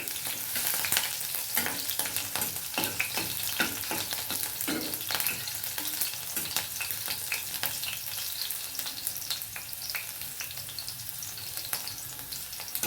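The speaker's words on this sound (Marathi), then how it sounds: "हिरवी मिरची छान परतून द्यायची मस्त तेलामध्ये" Green chillies fry in hot oil in a pan, giving a steady dense sizzle with scattered crackles and a few sharper spatters throughout, near and continuous with no talk.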